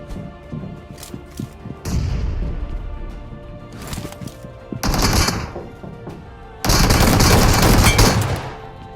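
Gunfire in a mobile battle-royale shooter fight, with an upgraded shotgun in play: dull thuds at first, then loud, dense bursts of shots in two stretches, the last sustained and heavy.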